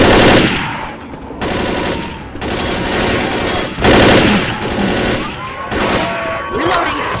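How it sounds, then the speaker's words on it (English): Rapid automatic rifle fire rattles continuously in Left 4 Dead, loud close bursts broken by short pauses, with fainter battle noise and voices underneath. "Guess I'll try this rifle."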